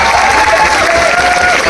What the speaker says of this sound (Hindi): एक बार जोर से तालियां होनी चाहिए।